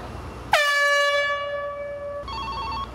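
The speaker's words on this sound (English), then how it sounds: "The signal another airblow at Dry Fork Station is 3 minutes away." A loud horn blast at Dry Fork Station power station signals an upcoming airblow to clean out pipes, one sustained tone that then switches to a warbling pulsed signal.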